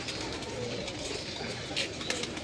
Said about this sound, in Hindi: ये भी मियाँ नज़ीर साहब के छठों वाले कबूतर हैं।